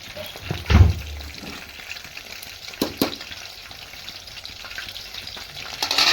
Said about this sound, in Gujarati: તો રીંગણ સરસ રીતે તળવાના છે.